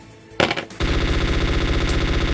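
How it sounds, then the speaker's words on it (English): Assault rifle fire from the Metal Gear Solid board game's sound effects opens with a few sharp shots and then settles into a loud, steady, rapid automatic burst. "She's going to spend 1 action to shoot at Mantis with her assault rifle."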